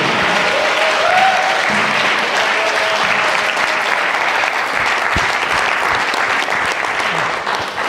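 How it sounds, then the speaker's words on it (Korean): An audience breaks into loud, continuous applause, a dense and even roar of clapping from many hands that holds steady for nearly eight seconds with only slight easing at the end. "큰 박수 부탁드립니다"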